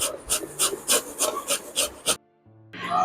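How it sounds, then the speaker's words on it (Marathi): Bottle gourd being grated by hand on a kitchen grater, giving a run of about eight regular rasping strokes close up, then a brief pause and a louder scrape. "किसने अशी किसून घेणार आहोत दुधी भोपळा"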